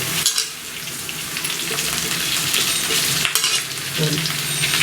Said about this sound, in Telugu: ఇప్పుడు ఇందులో శనగపప్పు వేసుకొని మరొక్కసారి ఇలా వేయించాలి.